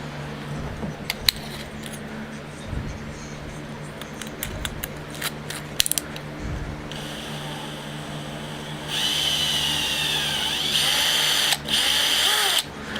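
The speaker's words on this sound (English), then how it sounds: "Can't tell if it's my drill chuck or if it is the bit, but something seems out of round" A power drill with an out-of-round chuck or bit whirs steadily in bursts, with a higher-pitched whine rising in the latter half as the motor spins up, close and loud.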